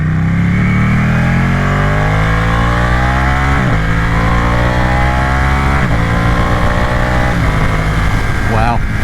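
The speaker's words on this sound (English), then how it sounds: "You have got to love a Ducati V-twin, haven't you? What an absolute beast. This thing sounds amazing." A Ducati V-twin sports motorcycle engine revs loud and close, climbing through the gears with rising harmonic sweeps and sharp drops at each shift, running continuously throughout.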